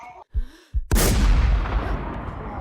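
Gunshot from an M107 rifle in a shooting video game: a single loud, heavy blast followed by a long booming rumble, with brief voice sounds just before.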